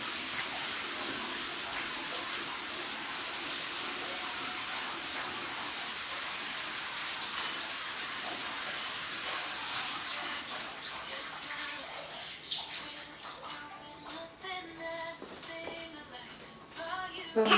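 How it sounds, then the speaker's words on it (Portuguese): Water running steadily into a small bathtub, a continuous splashing rush that dominates before thinning toward the end, with faint voices in the background. "Você tá enchendo a banheirinha"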